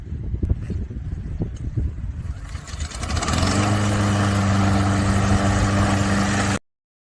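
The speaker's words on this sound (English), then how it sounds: "My lawnmower was supposed to stay out of it." A lawn mower starts up nearby and settles into a loud, steady engine drone that runs for a few seconds before cutting off abruptly.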